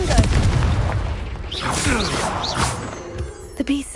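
Confringo explosive spell blasting in a Harry Potter video game, a loud booming burst near the start followed by rumbling crashes and debris, with brief voice-like sounds mixed in.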